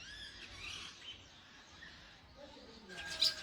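Wild mynas calling near a rooftop nest, a few faint chirps and squeaks drifting through quiet outdoor background, with a sharper brighter call near the end.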